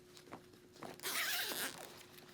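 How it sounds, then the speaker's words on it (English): The liner zipper of a race suit is pulled open with a single close, raspy zip lasting about half a second, preceded by soft handling and fabric sounds. "there is a zipper right here for the liner."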